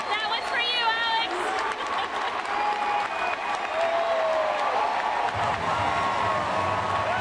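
Crowd at a baseball stadium cheering and applauding, a broad sustained roar of clapping and shouts, with someone talking over the noise throughout.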